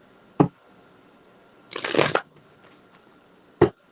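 Card shuffling: a short crisp riffle burst between two sharp taps, fairly close and alone.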